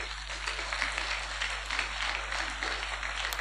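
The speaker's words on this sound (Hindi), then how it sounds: "इनके लिए जोरदार तालियां बजा दो।" A seated audience at a talk gives sustained applause, a dense, even wash of many hands clapping at moderate distance over a low steady hum, with no speech on top.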